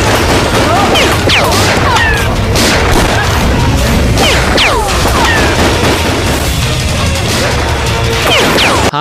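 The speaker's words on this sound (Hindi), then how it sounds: "गोलियां सारी जगह चल रही हैं" Chaotic Bhojpuri film fight-scene soundtrack with bursts of gunfire, crashes and booms layered over swooshing effects, loud and continuous throughout.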